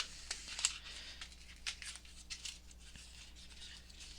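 Quiet crinkly tearing and scraping of taped packaging on Crayola Twistables pencils, several short rips and crackles spread out, ending in a louder burst at the close.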